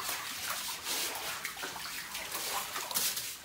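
Water rushing and splashing steadily as it drains out from inside a house in a riverside town built over water, a continuous hissing flow with small sloshes and no talk.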